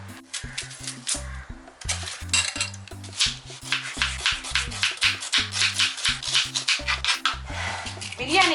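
A knife chops onions for a vegetable dum biryani in a home kitchen, with steady, rapid strokes on a board over low background music.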